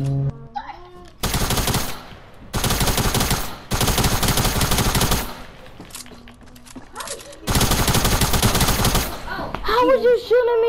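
Bursts of automatic gunfire in the video game Fortnite, loud and close, come in four long volleys separated by short gaps, with brief speech-like voice fragments between them and a voice near the end.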